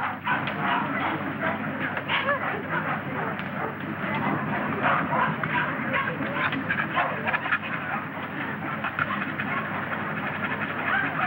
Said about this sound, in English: I can stand one dog, but this bedlam is getting on my nerves